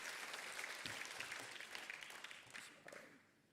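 Applause from a crowd at the 7th-anniversary celebration of an Indonesian political party. It is heard at a distance and fairly faint, holds as a thick patter, then fades out over a few seconds.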